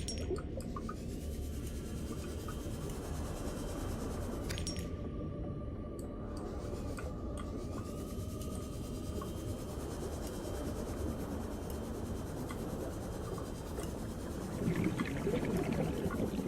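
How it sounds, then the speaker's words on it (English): A constant low roar of rushing water in the video game Subnautica fills the whole stretch, steady and broadband, with a faint tonal hum partway through. "I don't like the fast water rushing sounds."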